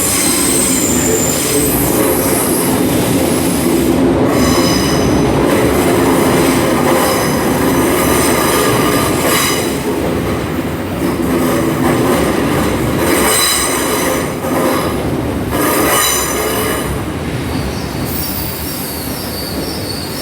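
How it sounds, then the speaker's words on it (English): A Class 802 train, unit 802-103, pulls into London Paddington with loud, continuous wheel squeal and screeching over a rumbling, clattering run of carriages, close by and sustained throughout. "Right, coming in now to 802-103."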